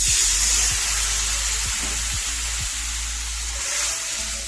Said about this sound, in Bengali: তো বন্ধুরা, অল্প করে জল দিয়ে দেবো।